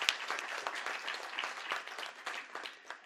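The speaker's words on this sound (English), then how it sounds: "A round of applause for Cohort 6, CPC." Audience clapping at an indoor graduation ceremony, a brief burst of many hands applauding at moderate volume without voices over it.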